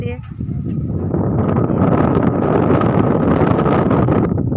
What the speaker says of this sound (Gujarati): પવન બહુ જ છે